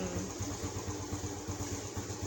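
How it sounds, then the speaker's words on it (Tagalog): A Suzuki Raider J 110 motorcycle engine with a faulty carburetor runs with a rapid, uneven putter and slight throttle pulses, faint and close, with no clear rise to full revs. "I'm trying to rev, and then from half throttle"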